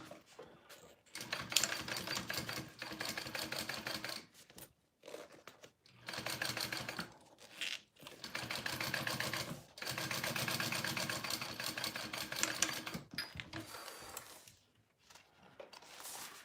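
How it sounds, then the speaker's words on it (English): A sewing machine runs close by for top stitching in rapid bursts of fast stitching, each separated by short pauses, with a loud, busy mechanical rattle throughout. "I am going to top stitch this."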